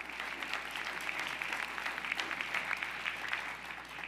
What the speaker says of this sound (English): Let's give a big round of applause to all the members of the de Blasio administration